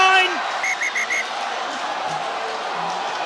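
A referee's whistle at a women's Six Nations rugby match between France and England sounds four short shrill blasts in quick succession over a steady crowd roar, fairly close and clear.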